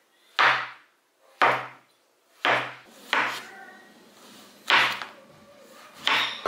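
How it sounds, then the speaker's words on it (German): A knife cuts through peeled, washed champignon mushrooms on a cutting board, six separate close thuds at an uneven, unhurried pace with quiet gaps between them and no talking. "Und jetzt werde ich die Champignons in Scheibe schneiden."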